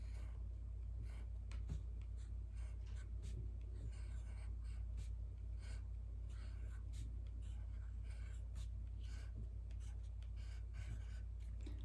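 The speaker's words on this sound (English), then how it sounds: "See if you can write your name." A pen writing a name on a homemade Mother's Day card gives soft, quiet scratching strokes in short bursts, faint over a steady low hum, with no talk.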